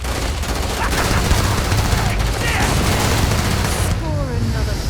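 Gunfire in the space RPG Starfield rattles as a dense, loud, continuous barrage of rapid shots layered with booming impacts, with no clear talk.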